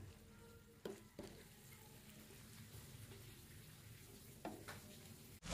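A quiet sizzle of food with tomato cooking in a pot, with a few soft scraping clinks of a utensil stirring, ending in a louder knock.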